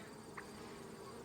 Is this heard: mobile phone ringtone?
no